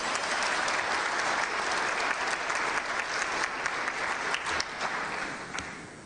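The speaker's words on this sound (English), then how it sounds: "Give yourself a hand of applause." Steady applause from an audience at a gathering of the Council of Mosques of California, dense clapping that holds evenly throughout before thinning slightly at the end.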